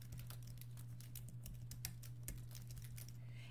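Quick, light clicks of fingers typing an email on a computer keyboard, tapping in an uneven patter over a steady low electrical hum, faint and close.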